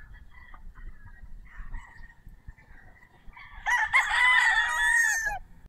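Broodcock roosters at a gamefarm cluck and call softly, then one bursts into a loud, close crow lasting about two seconds.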